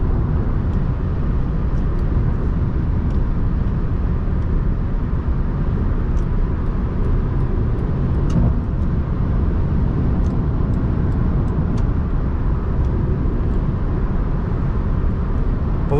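A 2007 Honda Accord Coupe EX-L V6 on the move, heard from inside: a steady, loud wash of engine and road roar holding level throughout with no breaks.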